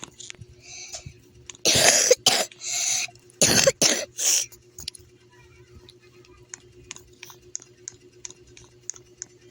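A few harsh, close coughs burst out in a quick cluster, then quieter scattered clicks and small noises follow in a calm room.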